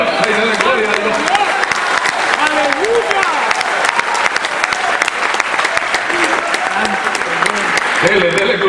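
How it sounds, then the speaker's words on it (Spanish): A church congregation claps hands vigorously and cheers during a Spanish-language sermon, a dense, steady burst of applause with voices shouting and speaking over it throughout. "Bata esas palmas con fuerza y dele gloria a Dios."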